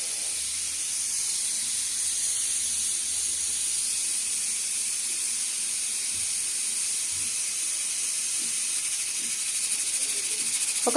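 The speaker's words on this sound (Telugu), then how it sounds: "మనం పప్పు పెట్టుకున్నాకండి అదైతే విజిల్ వస్తుందన్నమాట." A pressure cooker cooking dal with amaranth greens (thotakura) whistles in one long, steady, loud hiss of steam that runs unbroken and rises slightly toward the end.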